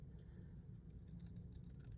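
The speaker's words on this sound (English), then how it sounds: "These scissors that I'm using, these are Cutter Bee." Cutter Bee scissors snipping through paper for a card kit, quiet close cutting sounds over a low steady background hum.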